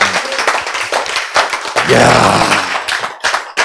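An audience claps during a Korean church health lecture, a burst of applause swelling in the middle of the clip with a voice speaking before and around it.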